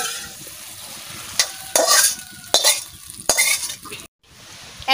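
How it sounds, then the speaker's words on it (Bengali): Snakehead fish curry stirred and fried in a pan, a steady sizzle broken by several loud scraping strokes of a utensil against the metal, with a brief pause near the end. "একটা মাছের কেবলে তরকারি রান্না করছি, শোল মাছের"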